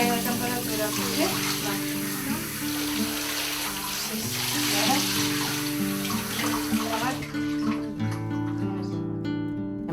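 Bath filling at home, with steady running tap water pouring into the tub throughout, close and continuous, a musical backing underneath, cutting off near the end.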